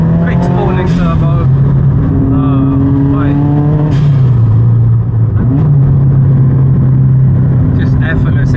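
A 400hp Subaru Impreza STI Spec C rumbles with a steady low engine drone and turbo whine close up, the pitch shifting and dipping around the middle as it runs through bends.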